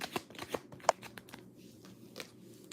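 Tarot cards are shuffled in a series of quick, crisp riffling snaps and soft flutters, close and moderately loud, with a few sharp accents early on followed by lighter, scattered card rustles.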